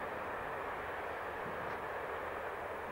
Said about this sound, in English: you can hear the train going past only now